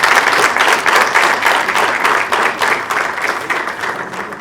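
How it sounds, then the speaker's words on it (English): A large crowd at the official opening of a football federation hotel gives a big, sustained round of applause, dense clapping holding steady throughout without pause. "maybe with a big round of applause for this kind of project"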